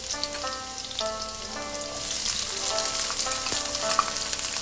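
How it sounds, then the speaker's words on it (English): Garlic and onions sauté in a wok on high heat, a close steady crackling sizzle punctuated by clinks of a utensil against the metal. "so we can saute our spices"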